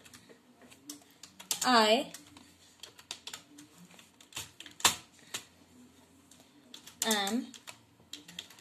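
Computer keyboard keys tapped in quick irregular bursts while typing in Tux Paint's text tool, close and moderately quiet, with a person speaking over much of it.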